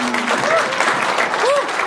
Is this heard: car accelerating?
no